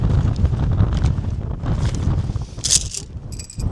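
Steady outdoor wind buffeting the microphone while a tent is being pitched, a continuous low rumbling roar with gusts and a few brief rustling clicks near the end.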